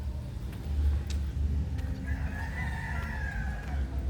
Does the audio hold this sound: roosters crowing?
yes